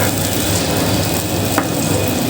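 Spices sizzle loudly in a pan while being sautéed for a prawn malai curry, a dense and steady frying hiss that runs throughout with no voices.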